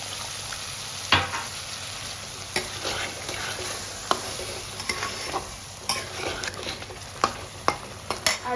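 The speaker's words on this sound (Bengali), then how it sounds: "আবারও কিছুক্ষণের জন্য আমি একটু ফুটে দেবো।" Egg curry with a little added water bubbles and sizzles in a pan, a steady soft frying hiss broken by scattered spoon clinks and scrapes against the metal.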